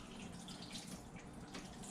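Water from rinsing sushi rice is poured off, making a faint, steady hissing trickle that runs throughout the brief moment.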